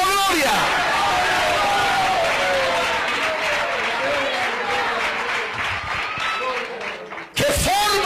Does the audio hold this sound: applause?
yes